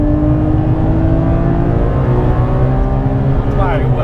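Porsche 997 GT3 RS in second gear accelerating hard toward the red line, its engine a loud, steady, rising high-revving howl close inside the cabin throughout.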